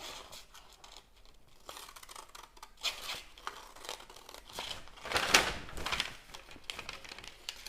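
Scissors snip off the raw edges of a handmade craft piece, giving faint, close cuts and crisp crinkles spread over several seconds in a quiet setting.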